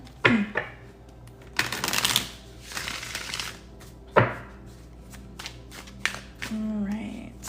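Tarot cards being shuffled and pulled, with bursts of riffling card noise and sharp slaps as cards hit the table, close by, while a voice talks briefly in between.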